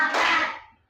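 A fifth-grade class claps together in a classroom, a single short burst of many hands that fades within a second.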